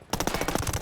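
Automatic gunfire rattles in Ghost Recon Wildlands as a rapid, loud burst of about a dozen evenly spaced shots that starts abruptly.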